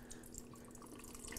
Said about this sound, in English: So I'm going to let the water just drain out for a minute.